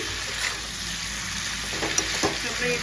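A cauliflower and potato curry, made without onion or garlic, fries in a covered pan over low-medium gas, giving a steady, close sizzling hiss with a few faint stirring scrapes.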